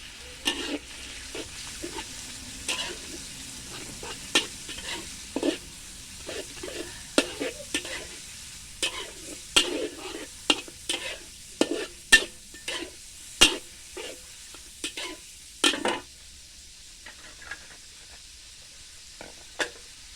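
Chicken liver sizzles and fries in a hot wok, with repeated sharp scraping and stirring strokes over a steady crackle, then the activity quiets near the end.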